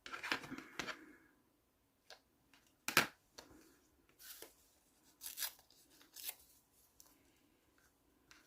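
Paper being snipped with scissors during vintage-themed scrapbooking of a butterfly, a few short crisp cuts and rustles spaced apart at close range, with quiet pauses between.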